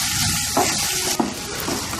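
Tomato with ginger garlic paste and turmeric sautés in hot oil, giving a continuous close sizzle with a couple of brief utensil scrapes and knocks against the pan, and no voices.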